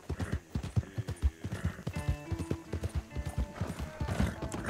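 In the video game Red Dead Online, a skittish horse's hooves clop in a steady, close rhythm, joined by a whinny partway through, with voices faintly present.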